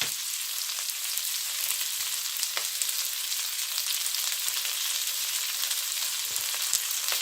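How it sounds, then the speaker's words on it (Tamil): Sliced onions and curry leaves sizzle steadily in a pan of oil, a constant close crackle with occasional soft pops and no voices. "வெங்காயமும் இதோட சேர்த்திருக்கிறேன். அதோட கறிவேப்பிலை, கறி லீவ்ஸ் இதில் போட்டிருக்கிறேன்."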